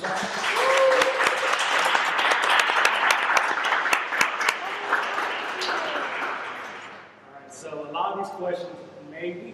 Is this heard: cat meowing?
no